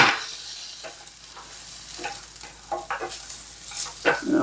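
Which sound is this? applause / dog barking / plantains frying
plantains frying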